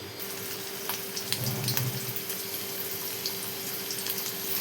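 Stuffed bitter gourds fry on a flat iron tawa, giving a steady, moderately quiet hiss and faint crackle with a low hum underneath and no talking.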